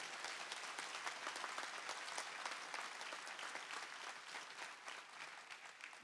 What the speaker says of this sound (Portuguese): Vamos dar um salve de palmas bem bonito para essas palavras.